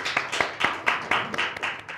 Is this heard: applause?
yes